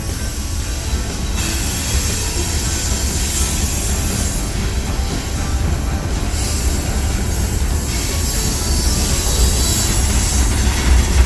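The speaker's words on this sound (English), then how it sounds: "there's a train intermodal coming on the outside line" A Union Pacific intermodal freight train rolls past on the outside line, a loud steady roar of rail cars with wheel squeal and faint clickety-clack running throughout, close by and with no voices.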